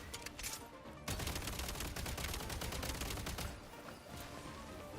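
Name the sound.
gunfire in a video game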